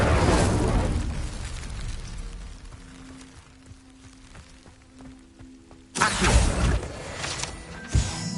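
Casting the Incendio fire spell in Hogwarts Legacy brings a roaring, crackling whoosh of flame that fades, then a second loud fiery burst flares up again with sharp pops.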